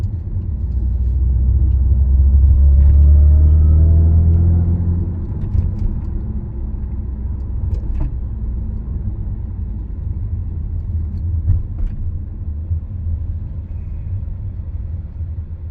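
Idling car with a straight pipe exhaust, heard from inside the cabin: a loud, deep low rumble that swells over the first few seconds, then settles into a steady drone with no talking.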